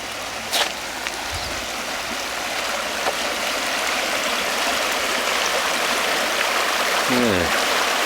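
A rocky creek near old gold mines flows with a steady, broad rushing hiss that grows slightly louder over time, with a faint knock near the start and a brief low engine-like sweep toward the end.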